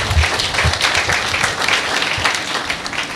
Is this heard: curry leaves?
no